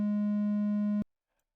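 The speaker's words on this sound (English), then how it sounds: "So let's go ahead and move on to the triangle wave." A synthesizer triangle wave holds a single pure, steady pitch for about a second and then cuts off abruptly, leaving silence.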